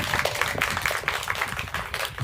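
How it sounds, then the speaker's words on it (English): A small outdoor crowd at a student storytelling showcase claps for a storyteller's 86-year-old grandmother, loose uneven hand claps close by and fairly loud, lasting a couple of seconds with no talking. "Have a round of applause for our grandma."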